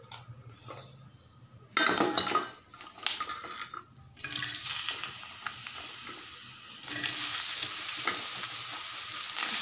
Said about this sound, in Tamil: இதில் வதக்குனிங்கன்னா நல்லா ஈவனாக வந்து வெண்டைங்காய் நல்லா வதங்கிரும்